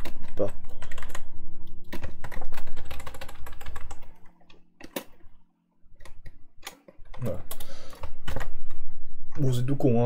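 Rapid typing on a computer keyboard clatters in irregular bursts with short pauses, mixed with a person talking in the foreground.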